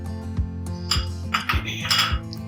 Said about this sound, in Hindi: ये हमने ज़ीरा डाल दिया है और साबुत धनिया डालेंगे